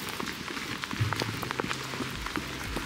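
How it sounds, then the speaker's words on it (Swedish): Rain falls steadily on surfaces outdoors, with scattered distinct droplet taps over a soft hiss; fairly faint and close, with no talking. "Nu regnar det"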